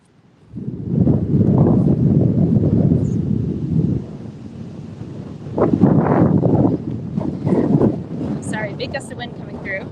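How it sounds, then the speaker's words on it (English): A strong gust of wind sweeps across the open hills of a Kentucky horse farm, buffeting the microphone with a loud, low roar that eases after a few seconds, followed by someone talking over lighter gusts. "Sorry, big gust of wind coming through."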